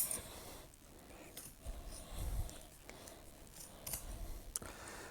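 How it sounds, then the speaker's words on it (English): Scissors snip through upholstery fabric in slow, repeated cuts, quiet and close, with no one speaking. "Take your handy dandy scissors."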